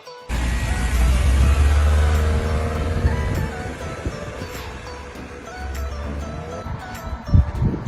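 A car drives past close by with a steady low engine rumble and tyre noise, loudest early and easing off, followed by a brief thump near the end.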